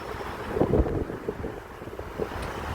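Strong sandstorm wind blows along an outdoor city street, a rough, buffeting roar against the microphone with uneven gusts and low thumps, close and steady throughout.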